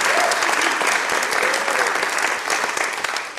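Sustained audience applause at a talk on nature and urban plants in Los Angeles, a dense, steady wash of clapping filling the whole stretch, fairly loud and close, with faint voices mixed in.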